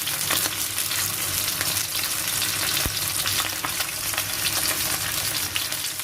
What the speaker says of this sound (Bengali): জাস্ট শ্যালো ফ্রাই করব। একটু এপিট ওপিট 2 মিনিট করে ভেজে নিয়ে হয়ে গেল।